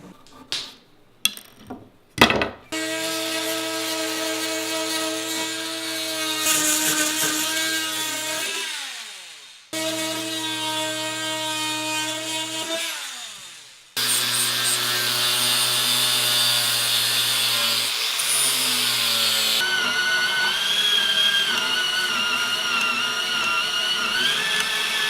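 A bandsaw cuts wood for an axe handle, its motor spinning up to a steady whine in three long runs separated by short pauses, with brief clunks before the first cut.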